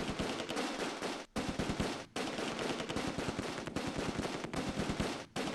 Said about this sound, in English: Everybody shoot at this BAR that's just standing there.